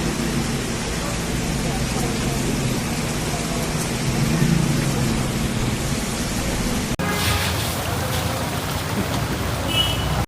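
Steady heavy rain hisses broadly throughout during a night thunderstorm in Bengaluru, India, with a low rumble underneath suggesting distant thunder; a brief cut midway shifts the texture slightly.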